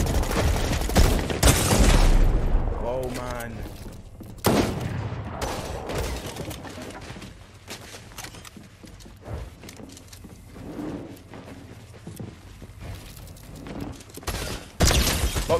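Fortnite gunfire in a close-range fight, rapid bursts of automatic shots and single cracks with booming impacts, loud and dense at first, then sparser and more scattered, with a final burst at the end.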